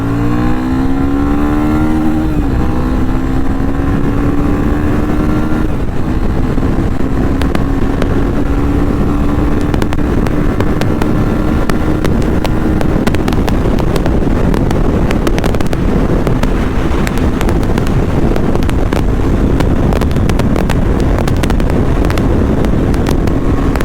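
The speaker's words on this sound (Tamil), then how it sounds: "ஒவ்வொரு கியருக்கும் இந்த வண்டியோட பிக்கப் எப்படி" Yamaha FZ-25 BS-6 motorcycle accelerating hard through its gears, engine note rising in pitch with each gear, the pitch dropping briefly at the shifts, over steady loud wind rush with no talk.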